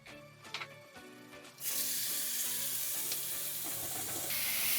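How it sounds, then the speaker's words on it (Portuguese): Seasoned beef flank meets a drizzle of hot olive oil with a few light clinks and taps first. Then a loud, sudden sizzle bursts in and holds as a steady hissing sear to the end. "Um fio de azeite, só para selar a carne, tá?"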